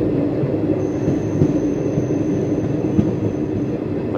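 A train rolls in toward a desert station on the Barmer–Munabao line, a loud, steady rumble of wheels and carriages with a faint high squeal and occasional clunks, heard from on board with no talking.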